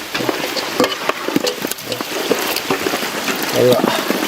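Small fish frying and being stirred in a pan during village cooking, with bright sizzling and scraping stirs throughout, louder near the end, while people talk over it.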